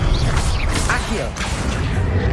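Accio summoning spell cast in the Hogwarts Legacy video game, a whooshing magical pull with mechanical clatter and impact hits, dense and loud over a busy game mix with voices.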